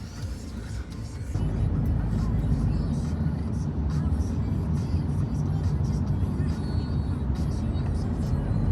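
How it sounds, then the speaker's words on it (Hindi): Steady car-interior rumble during a taxi ride to the airport, a low road and engine drone that grows louder after a quieter first second and holds constant, with faint higher road noise above it. "तो वही फाइनली टैक्सी कर ली हमने और यहाँ से एयरपोर्ट तक का सफ़र रहेगा 30 मिनट्स"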